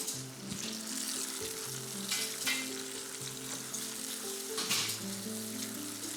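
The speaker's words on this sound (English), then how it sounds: "just gently cooking that through, and then our salmon can come out." Salmon slow-roasting on a barbecue turned right down, sizzling steadily and close up, a continuous frying hiss with a low background hum and no talk.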